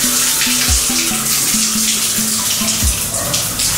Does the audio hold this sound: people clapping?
no